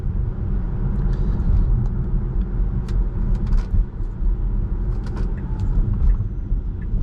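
Inside a Tesla Model 3 driving on autopilot along main street roads, a steady low road rumble and tyre noise carries throughout, with faint small clicks and knocks in the cabin.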